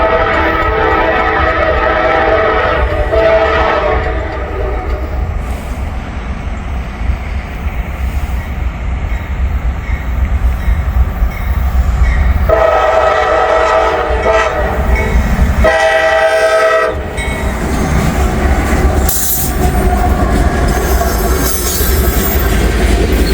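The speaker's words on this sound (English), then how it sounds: "Have ourselves a grain train here." A grain train rolls through a road crossing, loud and close, with a sustained rumble of wagons, squealing wheels and repeated horn blasts rising and falling over the steady roar.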